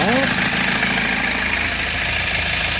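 A 2002 Kia Bongo Frontier truck engine idles steadily nearby, a constant mid-low rumble with a faint rhythmic knock, and a voice briefly sounds at the start.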